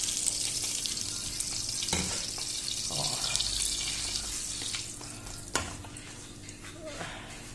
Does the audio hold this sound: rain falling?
no